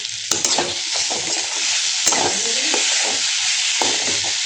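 Brinjal (eggplant) frying in a pan, a loud, dense sizzle heard up close, with a few sharp knocks and scrapes as it is stirred.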